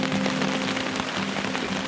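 Rain drumming steadily on a Kelty tent at a winter kayak campsite by the Current River, a close, dense, even patter with no talking.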